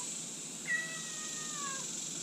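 A single cat meows once, a drawn-out, falling cry rising clearly above a steady background hiss, heard alone with no talking, in a Texas home where dogs are kept.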